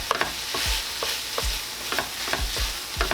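A spoon stirs tomato paste in a hot pan over lowered heat while it sizzles steadily underneath, with repeated scraping strokes about every half second and no talking.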